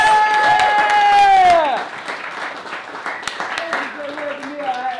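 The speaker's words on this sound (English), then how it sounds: "Ladies and gentlemen, give them a round of applause" Audience applause and cheering for an improv group at a late-night comedy show in a club, rising under a loud voice at first, then settling into steady clapping.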